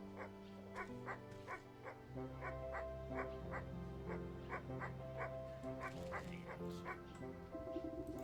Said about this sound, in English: This anxious little dog attempts frantically to get a crowd guard's attention